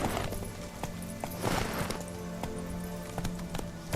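Roach the horse galloping in The Witcher 3: Hearts of Stone, a fast, even run of hoof thuds close by, with brief stretches of rushing noise behind the hoofbeats.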